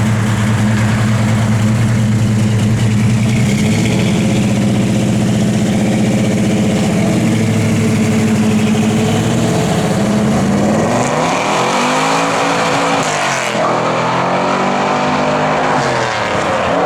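A 1970 Chevrolet Camaro SS engine runs loud and close, a deep rumbling idle that rises and swells in pitch with revs partway through, steady throughout with no talking.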